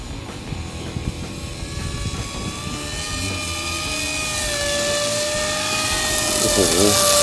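A radio-controlled model autogyro (gyrocopter) flies fast overhead, giving a steady droning engine and rotor whine that grows gradually louder and nearer over several seconds, with faint background voices.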